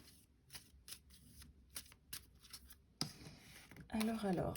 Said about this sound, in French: on va se tirer une carte, peut-être une carte message des cartes. Tiens, je vais prendre cet oracle.